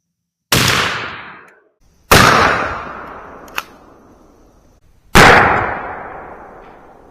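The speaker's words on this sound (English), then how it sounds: "Here's shot number 4 with the Winchester SuperX's out of our Remington 870 with the modified choke in it." A Remington 870 12-gauge with a modified choke fires Winchester SuperX standard-length #00 buckshot: three loud, sharp blasts spaced a few seconds apart, each trailing off in a long rolling echo, with a brief click between the second and third.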